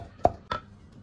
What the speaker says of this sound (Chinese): 然后把这个蒜剁碎，剁成米粒状啊